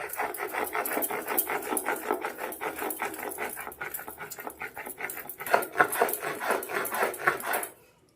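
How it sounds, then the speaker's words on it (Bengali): Cumin is ground fine on a grinding stone with a rapid, rhythmic scraping and rubbing of stone on stone, close and fairly loud, continuing steadily until it stops near the end. "জিরেটাকে একদম মিহি করে বেটে নেব"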